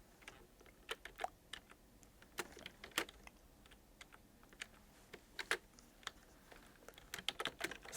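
Keys clatter on a computer keyboard while code is typed, irregular bursts of sharp clicks with short pauses, close and fairly quiet against a faint background hum.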